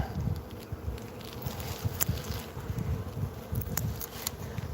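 Steady honeybee buzzing close by with a constant low drone, a few soft rustles and clicks scattered through it, no voices, at a mobile home.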